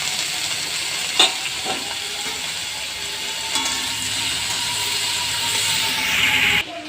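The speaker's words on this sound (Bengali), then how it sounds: "এঁচোড়টা একটু হালকা ভেজে নেব।" Young jackfruit pieces fry lightly in hot oil, giving a steady bright sizzle with a few sharp clinks of a utensil against the pan, close up and with no talk.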